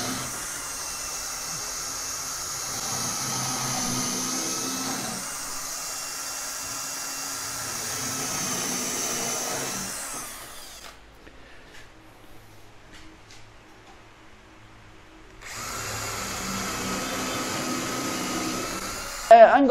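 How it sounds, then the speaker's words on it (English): A power drill bores holes in the outer gunwales of a Tryst 10 trimaran sailboat under construction, giving sustained close whirring runs that stop for a few seconds and then start again. "So I'm going to drill them now in between each one of the other ones."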